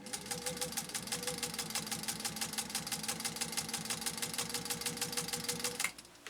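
A restored 1948 Singer 201-2 sewing machine runs at a steady fast clip, its needle beating out a dense, even rhythmic chatter close up, then stopping abruptly near the end.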